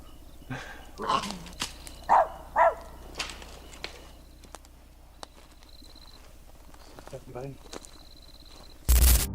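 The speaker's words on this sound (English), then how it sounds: "The dogs are fighting." Dogs snarl and bark in short, sharp bursts early on, then things settle into a quiet background before one loud thump at the end.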